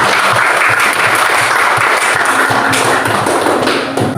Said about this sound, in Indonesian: Ya, beri tepuk tangan dulu untuk kita semua hari ini.